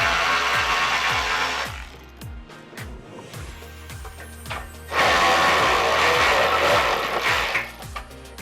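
A ratchet with a 13mm socket runs bolts up while installing rock sliders on a Lexus GX 470, giving a steady stream of close, rapid clicks across the whole stretch, louder in bursts and with no talk.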